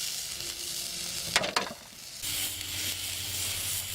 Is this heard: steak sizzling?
yes